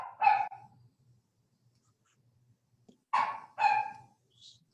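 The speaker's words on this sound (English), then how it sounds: "My dogs have shown up." Dogs barking indoors: a close single bark, then a pause of almost three seconds, then two more loud barks in quick succession, with quiet room tone between them and no talking.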